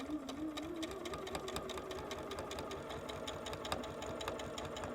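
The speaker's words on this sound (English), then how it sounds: "I'm going to sew the other one on the other side." A sewing machine runs steadily as it stitches quilt fabric along bias edges for a quarter-inch seam, a continuous close mechanical hum with rapid needle ticking and no speech.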